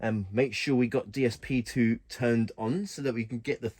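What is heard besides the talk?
No distinct noise like a dog, phone or traffic.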